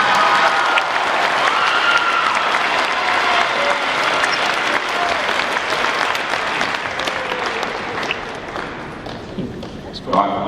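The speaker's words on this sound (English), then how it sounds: "Please give a huge round of applause for Lieutenant Commander Jonathan Mooneyham." A crowd at a Veterans Day celebration applauds loudly, with some cheering mixed in and voices heard in the crowd, the clapping gradually thinning toward the end.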